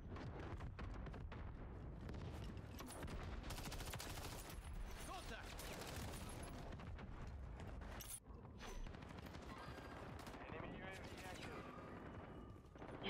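Gunfire in a Call of Duty video game, dense bursts of automatic shots and explosions filling a busy match, with someone talking over it.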